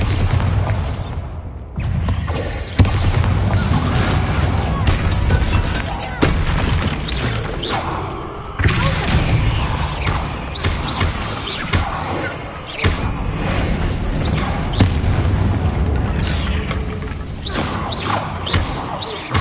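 Bombarda spell explosions go off in a video game, with repeated booms and thuds over a dense, continuous layer of game effects, loud and close.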